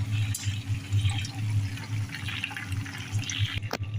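Water poured into chicken cooking in a pan, a steady close liquid pour and splash running for about four seconds with no talk.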